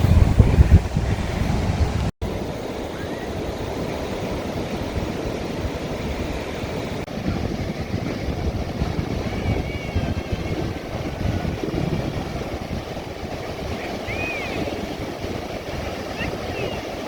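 Waves wash ashore on a Gulf of Mexico beach at Gulf Shores, a steady broadband surf roar mixed with gusty wind noise, close and continuous, louder in the first two seconds.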